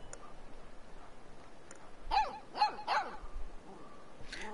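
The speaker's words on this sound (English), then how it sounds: "The dog is still too cute." A dog in the video game Life is Strange 2 barks three times in quick succession, moderately near, over a quiet ambient background with a faint yip near the end.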